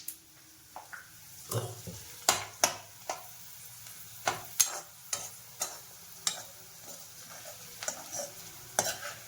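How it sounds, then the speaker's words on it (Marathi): Dried onion frying in a pan on a gas stove, stirred with a utensil that knocks against the pan in a steady series of sharp scrapes and clacks over a low background sizzle, with no talking. "वाळलेला कांदा असल्यामुळे तो पटकन तळला जातो. फक्त हलवण्याची जराशी मेहनत आहे."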